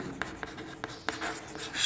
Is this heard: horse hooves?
no